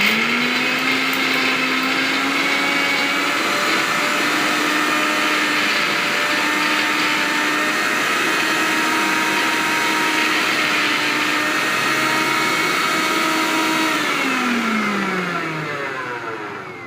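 An electric mixer grinder whirs loudly and continuously as it blends a paste, a close steady motor whine with shifting pitch that winds down at the very end.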